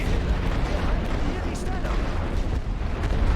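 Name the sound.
artillery barrage in the video game The Great War: Western Front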